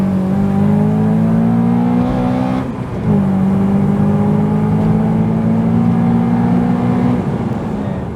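An MK5 Golf GTI and a Honda Accord Euro S accelerate hard side by side in a rolling race, engines droning up through the revs with a brief dip at a gear change before climbing again, loud and close.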